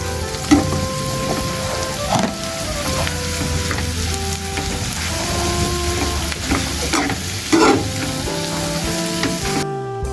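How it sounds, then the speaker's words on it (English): Mushrooms frying in unsalted butter with cooked onions, garlic and ginger sizzle steadily up close, broken by clattering stirs and a couple of louder knocks as they tumble into the pan, with no one talking. "I'm just adding my mushrooms"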